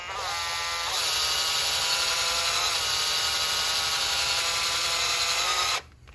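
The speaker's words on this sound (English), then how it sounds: "I'm going to actually try a different self-tapping screw this time" A power drill drives a self-tapping screw while working on a Triumph Spitfire differential seal replacement. The motor whines close and loud, its pitch shifting as it bites, running steadily for about five seconds before stopping abruptly.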